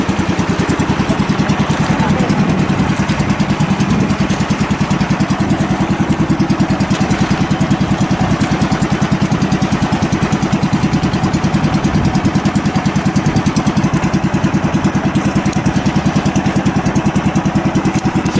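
A steady boat engine with a faulty motor drones continuously at close range, a low rumbling chug with no pauses and no voices over it.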